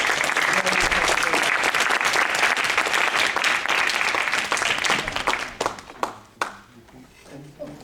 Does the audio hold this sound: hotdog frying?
no